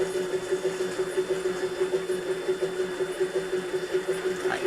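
An N gauge Kato Soundbox model train module gives a steady mechanical chuffing hum in a quick, even rhythm, mimicking a four-cylinder engine idling, close and fairly quiet with no talking.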